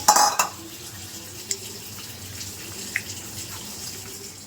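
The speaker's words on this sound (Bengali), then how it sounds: "দুটো একসঙ্গে মিশিয়ে ধুয়ে রাখছি।" Lentils and rice are being washed together in water in a home kitchen: an initial burst of splashing and swishing, then quieter sloshing with a couple of small clinks from a vessel.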